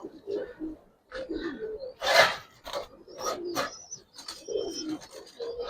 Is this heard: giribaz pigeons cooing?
yes